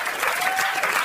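An audience claps in a brief, dense burst of applause, loud and even, with no talk.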